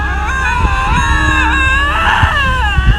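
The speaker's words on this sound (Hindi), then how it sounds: "एक हॉन्टेड लोकेशन पर एक औरत की रोती हुई आवाज मोस्ट ऑफ द टाइम एक लिंक्स कैट की होती है।" A lynx gives a loud, wavering wail much like a woman crying, rising and falling in long sobbing pulls close to the listener, with some rustling noise beneath it.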